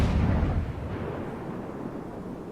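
Naval gunfire in World of Warships lands as a heavy low boom at the start, then a rumbling decay that fades over a couple of seconds, with no voices.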